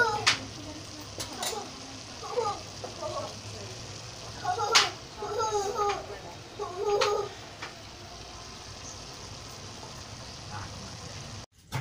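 Cabbage fries in oil in a pan with a soft, steady sizzle underneath, while a voice speaks in bursts over it and a few sharp stirring clinks ring out.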